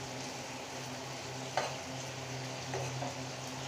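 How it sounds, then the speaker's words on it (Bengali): Fried tengra fish tossed with spice paste in a pan, a steady low sizzle with a couple of brief spatula scrapes standing out, close by and moderate in level, no voices. "এখন আমি ভাজা মাছগুলোর সাথে মিশিয়ে নিচ্ছি মশলাটাকে"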